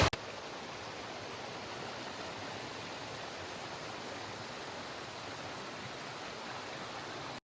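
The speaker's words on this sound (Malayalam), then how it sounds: "ഇതാണ് വെള്ളച്ചാട്ടത്തിൻ്റെ ടോപ്പ്." Water rushing over the top of Kudilu Kuzhi Waterfalls, a steady, dense roar that holds at an even level throughout with no voices.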